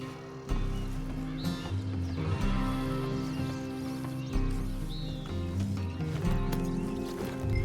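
Horse sounds from Red Dead Redemption 2, with hoof clip-clop and low snorts heard close, mixed into steady game ambience and music.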